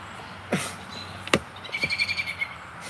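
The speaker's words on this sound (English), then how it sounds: "What's going on, pretty bird?" A pet bird indoors gives a couple of sharp, faint chirps, then a quick run of rhythmic twittering notes, all fairly quiet with no talking.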